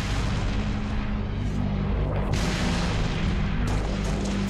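Booming gunfire from Halo: Reach on Legendary difficulty, dense and loud throughout with a couple of heavier blasts standing out amid constant rumbling combat noise.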